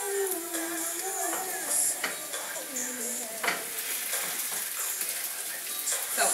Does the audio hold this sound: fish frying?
yes